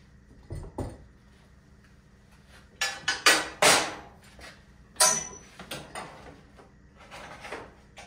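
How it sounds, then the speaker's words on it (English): Clamped sheet metal hammered down against a strong steel bar, a few sharp metallic strikes in irregular bursts, moderately near, with quiet gaps between blows. "I'm going to be hammering this down here"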